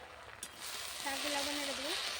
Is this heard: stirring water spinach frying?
yes